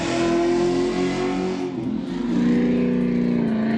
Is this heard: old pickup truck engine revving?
yes